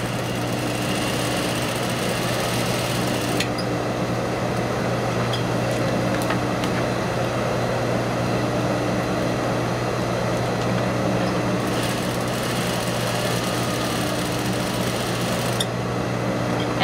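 A sewing machine runs steadily while stay stitching a shirt cuff, a constant mechanical hum with brief changes in pace.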